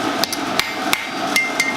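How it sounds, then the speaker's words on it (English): A wooden hammer strikes a freshly forged metal twist on an anvil, giving six sharp, evenly spaced knocks at close range over a steady background hum, with no talking. "We're going to use a wooden hammer."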